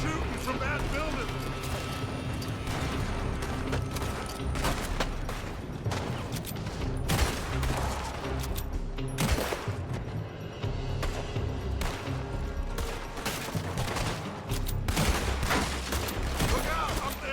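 Steady gunfire from a building in Red Dead Redemption 2 rattles in repeated volleys under ongoing game noise, with voices now and then.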